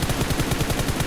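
Gunfire in the mobile battle royale game PUBG Mobile plays as a rapid burst of automatic shots, evenly spaced and fairly loud, with no voices over it.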